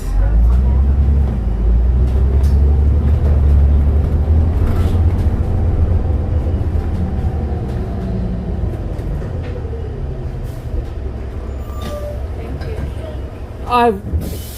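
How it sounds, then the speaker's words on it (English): Inside a moving refurbished train car, a loud, steady low rumble of running wheels and motors fills the ride, easing slightly later, with a few faint squeaks and a brief higher sound near the end. "I'm riding a refurb train car today, something a little different."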